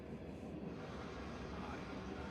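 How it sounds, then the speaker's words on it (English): A long train passes by at a distance, heard as a faint, steady low rumble that holds evenly with no distinct breaks. "You guys still hear the train coming through?"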